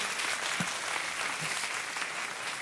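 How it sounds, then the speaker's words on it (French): A church congregation applauding during a French-language sermon, a steady, even roar of many hands clapping together that holds at the same level from start to end, with a few faint voices mixed in. "Par applaudissement s'il vous plaît"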